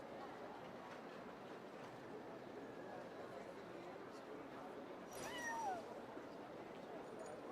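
A cat character meows in the video game Genshin Impact, a short rising-then-falling call heard once midway over a steady bed of game ambience and background music.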